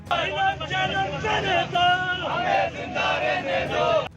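A night torch march crowd in Muzaffarabad shouting slogans loudly and continuously, with dense, sustained chanting voices and babble throughout, close and energetic.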